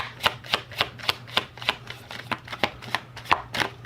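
Crisp, evenly spaced slaps come from an oracle card deck being shuffled overhand close by, about three per second, with no voices.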